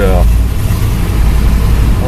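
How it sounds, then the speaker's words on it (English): A cold Chevrolet El Camino engine idles with a steady, loud, close low rumble while someone talks over it. "So it's idling okay now. I mean, the engine's ice cold."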